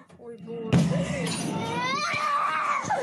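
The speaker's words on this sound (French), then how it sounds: "Les cris d'un enfant et la terreur d'une famille." Child screaming in terror after a missile strike beside an apartment building in Ukraine: a sudden crash-like burst, then sustained high-pitched wailing and cries close by, mixed with other frightened voices.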